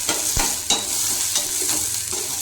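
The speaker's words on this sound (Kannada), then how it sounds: "ಇದನ್ನು ಚೆನ್ನಾಗಿ ಫ್ರೈ ಮಾಡ್ಕೊಳ್ಳೋಣ್ರಿ" Ridge gourd fries in a couple spoons of hot oil for chutney, a steady loud sizzle broken by a few sharp stirring scrapes near the start and middle, with no voices.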